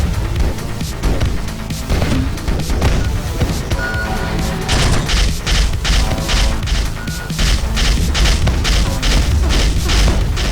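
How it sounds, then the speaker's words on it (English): Grenade launcher blasts in the video game Neurovoider: loud, repeated booming explosions and crashes in fast succession over dense, continuous game noise throughout. "Grenade launcher is surprisingly not super accurate."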